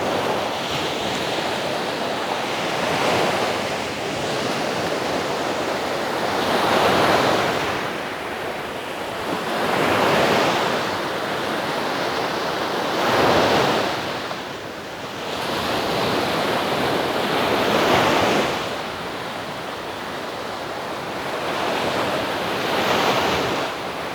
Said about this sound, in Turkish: Deniz daha fazla mı hırçınlaştı bana mı öyle geliyor arkadaşlar?